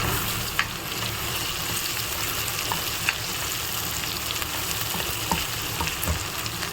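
Grated ginger and tomatoes frying in a pan, a steady moderate sizzle throughout with occasional sharp pops and faint stirring clicks.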